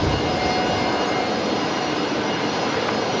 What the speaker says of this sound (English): Next arrival is going to be Qantas 934 coming in from Perth. In fact, they're just about to touch down.